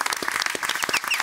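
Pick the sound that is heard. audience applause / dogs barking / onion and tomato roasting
audience applause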